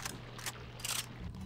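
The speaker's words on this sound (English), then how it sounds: "I also need shotgun bullets, so I should probably reload this too." Shotgun reloading in the video game Resident Evil 4, with a few quick mechanical clicks and ratcheting clacks over a low steady hum, no talking.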